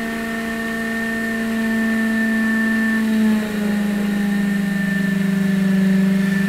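A DualPole mini motor energizer spins at high RPM, giving a steady tonal hum with clear harmonics that dips slightly in pitch midway and then holds, loud and close, with no talking.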